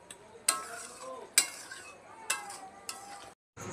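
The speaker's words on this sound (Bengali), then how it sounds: "ডাল আর একটু দিয়ে দিলাম, দিয়ে এটাকে আমি ভালো করে নাড়াচাড়া করব।" Dal and onion chicken curry stirred in a pot, with several sharp spoon knocks against the rim spaced about a second apart over a soft bubbling, simmering background.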